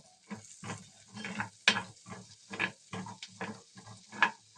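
Chopped garlic sizzling in melting butter in a pan, a close, uneven run of short crackling bursts, some louder and sharper than others, with no voices.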